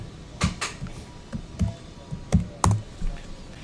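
Keystrokes on a computer keyboard tap out a short command in a quiet room, about ten distinct clicks in an uneven typing rhythm, close and clear with no talking.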